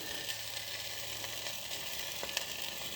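Steady, crackling sizzle of a tuna fish cake frying in a hot pan, a continuous hiss with small pops, close by and fairly quiet, no voices.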